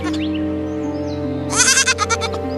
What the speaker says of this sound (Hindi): ये बकरी यहाँ कहाँ से आई?